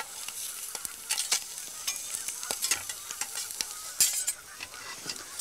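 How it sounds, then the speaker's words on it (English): Fish searing lightly in a pan gives a soft, steady sizzle with scattered crackles and small clicks of stirring or utensil contact, moderately close, with no talking. "We just sear that lightly on both sides."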